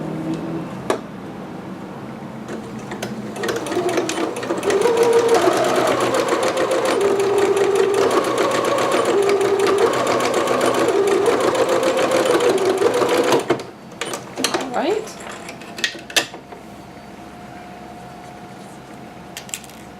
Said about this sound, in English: I usually like to backstitch a little bit over my straps, once again, just to give them a little bit more strength and stability